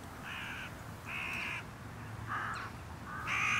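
Jackdaws call over a stubble field, four harsh caws spaced about a second apart, moderately distant against a quiet outdoor background.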